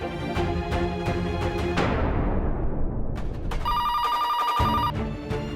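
A telephone ringing while calling a bank helpline, a loud repeated electronic ring tone with a bright sustained trill near the end.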